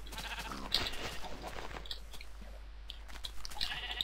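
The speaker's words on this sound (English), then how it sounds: "there's so many sheep just clamouring to be coloured" Sheep bleating in Minecraft, a few short blocky in-game bleats spaced out over a steady game background with no talking.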